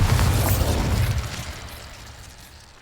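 A Bombarda spell explosion in the video game Hogwarts Legacy erupts as a loud, deep, broad boom that rumbles and slowly fades away over a few seconds.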